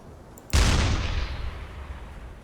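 Deck gun on a U-boat in UBOAT firing a single heavy round, a loud close boom with a deep low thump and a long fading rumble, heard alone.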